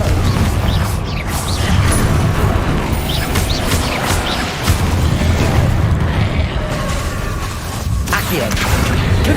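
Confringo fire spells blast repeatedly in Hogwarts Legacy combat, dense booming bursts layered over busy battle noise throughout, with a voice speaking over them.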